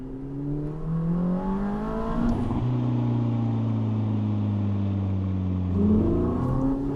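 Ferrari 849 Testarossa Spider engine heard from on board, a loud turbocharged tone that shifts pitch, sweeping up and dropping back as the throttle lifts, then holding a steady drone with a faint whoosh, alone without talk.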